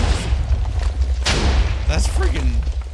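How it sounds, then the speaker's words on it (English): Explosions from a tunnel bore in the video game Minecraft: several booming blasts and bursts in quick succession, with a sharp crack near the middle and voice-like sweeps layered over a rumbling background. "It does 3 different explosions."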